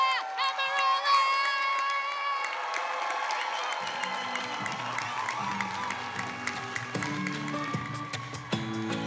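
At an Indigenous music awards ceremony, a crowd applauds and cheers loudly for a performer, sustained clapping and shouts filling the hall while music plays and then gives way to the ovation.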